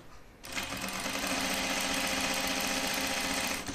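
A sewing machine stitches a reversible Archer button-up shirt, starting abruptly after a short pause and then running at a steady fast buzz, close and loud, with no talk over it.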